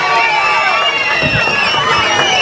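Crowd at an Amaravati farmers' celebration cheers and applauds, loud and dense, with clapping bursts and voices mixed into the roar.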